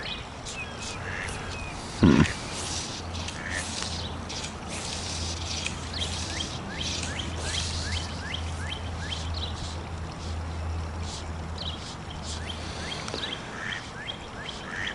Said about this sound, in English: The birds are chirping and the ducks are over there quacking.